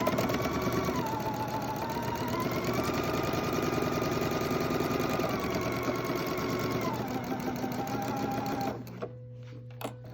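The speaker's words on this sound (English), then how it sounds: "I pin or clip my pieces together to hold them together, and then I sew my 1/4 inch seam." A sewing machine stitches a quarter-inch seam through pieced fabric, running steadily and close for about nine seconds with a slight change in speed partway through. It then stops, leaving a low hum and a few faint clicks.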